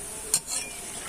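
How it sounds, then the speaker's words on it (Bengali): Thin shreds of potato for jhuri bhaja fry in oil, giving a steady close sizzle with a sharp clink of a stirring utensil against the pan partway through. "একটু বড় বড় করে ভাজছি। তারপরে আমি ভেঙে নেব, ছোট ছোট করে নেব।"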